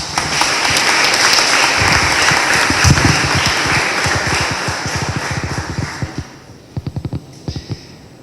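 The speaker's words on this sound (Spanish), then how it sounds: "vamos a recibirlo con un fuerte voto de aplausos" An audience at a keynote law conference breaks into loud, sustained applause that gradually fades, ending with a few scattered claps.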